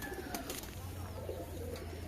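White Giribaj pigeons at a home coop sale give soft low coos, half buried in steady background noise and a low hum.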